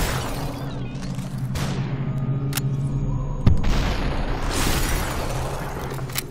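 Gunshots in the video game Superhot ring out as a sharp single bang midway through, over a steady droning game background with a couple of fainter pops.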